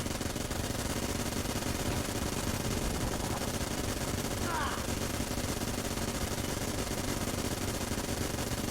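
Rapid gunfire from the twin-stick shooter game Enter the Gungeon rattles continuously in dense bursts, loud and close, with a voice talking over it.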